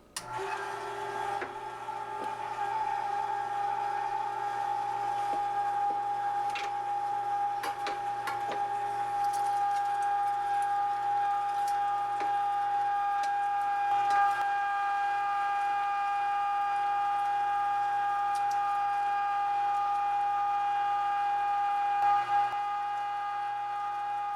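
An electric meat grinder chews through about two pounds of deer meat, a constant motor hum with a steady whine, running smoothly for over twenty seconds with occasional faint clicks and knocks as chunks pass through.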